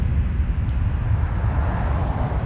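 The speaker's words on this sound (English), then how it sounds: "And we got a 747." A Boeing 747 at Toronto Pearson Airport gives a continuous loud, low jet engine roar, steady and broad throughout, with no speech.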